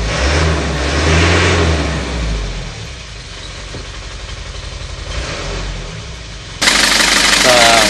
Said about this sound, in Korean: 시동을 한번 해서 RPM을 올려서 상태를 확인해 보도록 하겠습니다.